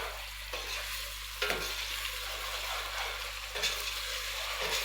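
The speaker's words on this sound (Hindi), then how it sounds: "प्याज हमारे फ्राई हो रहे हैं" Onions fry with garlic ginger paste in a pan for a Punjabi-style cauliflower and potato dish, a steady close sizzle broken by a few scraping stirs and no talking.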